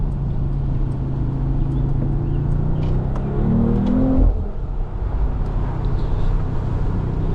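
A 2025 Mercedes-AMG CLE 53 Cabriolet with a heavily boosted turbo engine in Sport Plus mode pulls steadily under load, its drone rising in pitch near the middle and easing off toward the end, with no talk.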